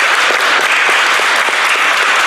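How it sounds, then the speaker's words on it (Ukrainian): Loud, dense applause from a crowd at Lviv city council honouring the city's best street cleaners, continuous clapping filling the whole moment with no voices over it. "Їх вітали гучними оплесками"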